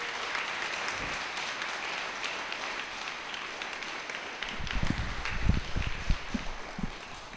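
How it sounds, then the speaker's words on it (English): An audience at a law enforcement and public safety appreciation gathering applauds, a soft, steady wash of clapping with a few heavier thumps toward the end. "Please give them a round of applause"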